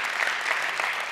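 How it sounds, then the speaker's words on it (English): Audience applause at a world forum talk, a dense steady wash of clapping from a large crowd filling the whole short stretch, loud and close with no break. "Sorry, please don't clap."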